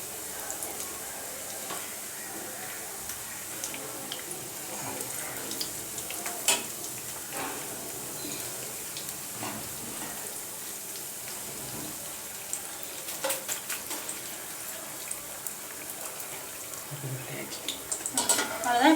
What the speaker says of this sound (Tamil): எண்ணெய் ஏற்கனவே ஹீட் ஆகிடுச்சு. நான் இதில் ஒன்றா போட்டுடுறேன். ரொம்ப சிம்மில் வச்சு பொரிச்சுக்கணும்